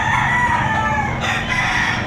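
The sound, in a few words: rooster crowing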